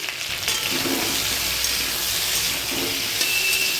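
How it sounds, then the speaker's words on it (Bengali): Chopped onion frying with potatoes in a pan, a steady loud hiss of sizzling oil with occasional light clinks and stirring scrapes, close and continuous. "এবার আমি এর মধ্যে পেঁয়াজ কুচি দিয়ে দেবো। পেঁয়াজ কুচিটা দিয়ে দিচ্ছি।"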